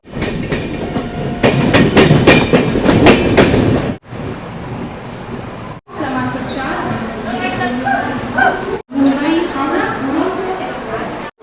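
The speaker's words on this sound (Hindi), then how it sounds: "हमारी ट्रेन मुंबई की ओर से आ रही है" Mumbai–Howrah Duronto Express rumbling along the rails with steady clickety-clack, loud and close, broken by short gaps, with people chattering over the train noise in the later part.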